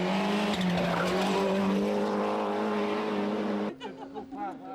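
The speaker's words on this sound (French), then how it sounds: "Freinage tardif pour Thierry qui s'amuse sur les routes dina" A 1993 rally car brakes late on an Ardennes road stage near Dinant, its engine roaring loud and close with tires squealing, then the engine note drops and fades as it pulls away.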